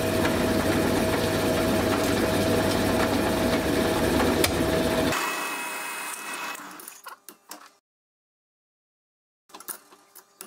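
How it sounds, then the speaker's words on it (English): A drill boring through metal whirs steadily for about five seconds, then winds down and stops, followed by a few light clicks and taps before silence. "when you start drilling it through"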